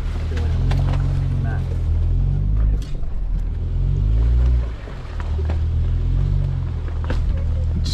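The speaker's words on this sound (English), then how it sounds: "Let's see how the Jeep does with trees." A Jeep Wrangler Rubicon engine rumbles steadily up close as the vehicle pushes through tree branches off-road, with brief scraping and brushing swells rising over the low drone.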